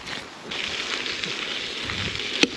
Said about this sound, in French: Ah, il pleut encore quand même.